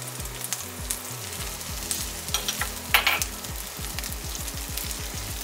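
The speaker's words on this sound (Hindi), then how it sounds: "अब हमारे जो ऑनियन है वो अच्छी तरह सौते होके रेडी हो चुके हैं।" Chopped onions and coriander stems sauté in a hot pan with a continuous close sizzle, broken by repeated scraping stirs of a spoon, and no one speaks.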